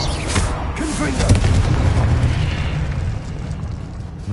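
A fiery Confringo blast spell going off in the Hogwarts Legacy video game, a loud booming explosion with rumbling debris that swells then tapers over a few seconds.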